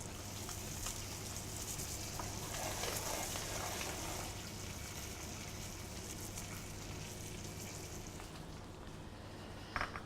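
Fresh garlic sizzles steadily in a frying pan in a restaurant kitchen while trout is cooked Ardennes style, a continuous close hiss with a soft crackle throughout and no talk.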